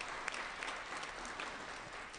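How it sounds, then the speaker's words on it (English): A room of people at a legislative assembly floor session claps steadily for candidates, a dense, even patter of applause heard at moderate distance with no voices over it. "Let's have a round of applause for all candidates."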